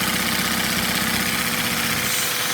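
Small Lego inline two-cylinder vacuum engine with overhead valves running fast, a dense, rapid mechanical chatter held close and loud for a couple of seconds, alone.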